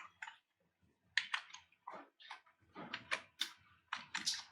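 Typing on a computer keyboard while entering code for a Python Flask web app, with quick irregular clusters of close, crisp key clicks in short bursts and brief pauses, and no speech.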